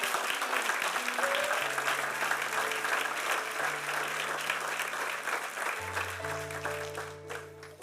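A church congregation applauds for the Lord during a Spanish-language sermon, steady sustained clapping filling the hall with sustained organ or keyboard tones held underneath.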